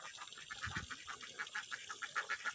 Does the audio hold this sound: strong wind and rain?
no